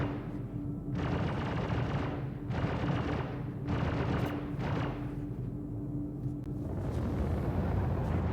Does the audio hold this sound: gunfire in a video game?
yes